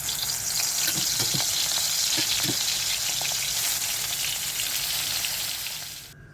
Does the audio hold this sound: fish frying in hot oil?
yes